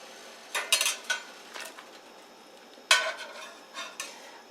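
Onions and garlic being stirred in a pan for red snapper in spicy tomato sauce, with scattered scraping and clinking of a utensil against the pan over a faint sizzle, no voices.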